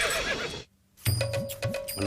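A horse neighs in a Tamil period comedy scene, its whinny rising and falling amid hoof clatter and background noise, after a brief near-silent gap.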